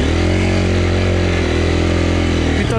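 A KTM 350 Freeride enduro motorcycle revs hard and steadily at close range, its buzzing single-cylinder roar holding loud for nearly three seconds before dropping off abruptly.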